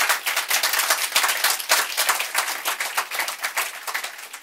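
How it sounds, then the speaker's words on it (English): An audience at a panel talk bursts into dense, lively applause, many hands clapping close together, strong and continuous throughout with no talk over it. "I'm going to ask you to applaud him again after we're done."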